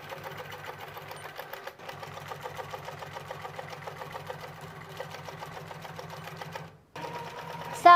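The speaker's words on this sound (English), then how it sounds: "But if I start moving faster, then it can actually sew, that needle can go up and down." A Q'nique 19 quilting sewing machine stitches steadily at slow speed, its needle driving up and down in a rapid even mechanical chatter close by, with a brief pause before running on again.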